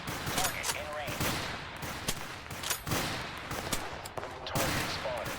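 Kar 98 and Carcano bolt-action rifles fire in Total Conflict: Resistance, with repeated sharp gunshots amid a dense battlefield din, while game voices call out in the background.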